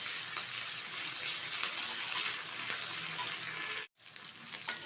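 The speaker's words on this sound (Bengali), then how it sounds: "এবার একটু নেড়ে চেড়ে নেব।" Ginger garlic paste frying in a pan for chilli chicken, a continuous close sizzle with light stirring that cuts out abruptly for a moment before resuming, no voices.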